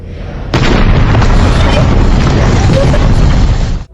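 A sudden, loud blast in a tunnel in an action film bursts in and sustains as a dense, roaring rumble for several seconds before cutting off abruptly.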